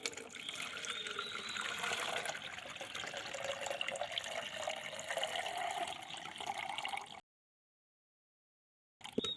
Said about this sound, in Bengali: এই জলটা আমরা কিন্তু আস্তে করে সুন্দর করে কিন্তু ছেঁকে নেব